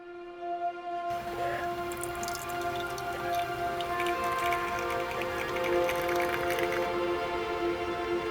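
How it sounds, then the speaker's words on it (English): Steady rain patters and drips around a campervan during a wet trip near Annecy, France, a dense continuous hiss of drops close by with no talking. "It has been a proper rainy start to our trip in France."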